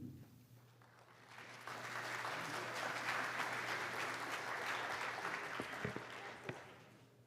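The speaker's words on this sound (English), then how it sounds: "Please hold your applause." Applause from a candidate forum audience swells after a short lull and holds for several seconds as steady, moderately faint clapping in a large room.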